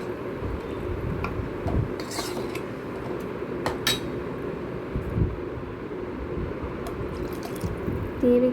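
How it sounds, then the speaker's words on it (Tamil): Water added to a pot of mutton bone rasam with shallots, garlic, coriander, mint and tomato, heard as soft drips and light splashing with a few sharp clinks of utensils against the pot. "தேவைக்கு ஏற்ற மாதிரி கொஞ்சம் தண்ணியை ஆட் பண்ணியிருக்கேன்."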